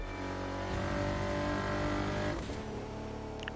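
A heavy, roughly 4,000-pound two-seat Bentley grand touring supercar in the racing game The Crew 2 revs and accelerates, its engine note rising steadily, then briefly dropping and picking up again, loud and close with no talking.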